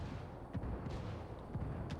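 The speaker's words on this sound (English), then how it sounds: "Good mortar by the red team" Mortar rounds thump repeatedly in the Ghost War mode of a tactical shooter, a series of muffled distant blasts and rumbles rolling under a low battle din.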